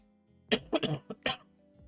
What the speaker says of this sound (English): Probably mute my mic whenever I cough